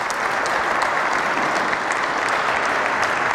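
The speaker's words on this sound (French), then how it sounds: "Vous pouvez les applaudir, s'il vous plaît." An audience at a basketball coaching clinic gives the players a dense, steady round of applause, loud and continuous from start to finish with almost no voices.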